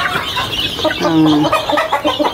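Young chicks in a homemade pen, peeping and clucking in short high calls close by, with rustling around them.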